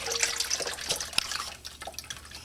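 Used engine oil pours from a van's drain into a catch pan, a splashy liquid trickle with scattered drips and spatters, close and steady throughout.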